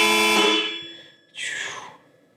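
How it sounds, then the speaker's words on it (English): Two electronic car horn blasts, the first long and loud, a brief gap, then a second shorter honk, close by with no talking. "And I have this one, which is the horn."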